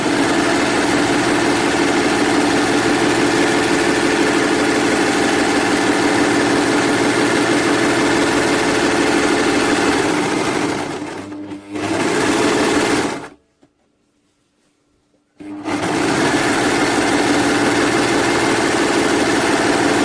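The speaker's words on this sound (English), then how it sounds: "So I've overlocked all along both edges." Overlocker serger stitching along the edges of fabric pieces for a blue tunic, a steady close whirring motor hum with a brief slowdown and a short silent pause before sewing resumes.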